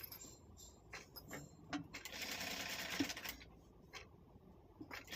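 A sewing machine stitches a cloth pouch made from old fabric scraps, a fairly quiet burst of whirring lasting about a second amid small clicks and handling noises.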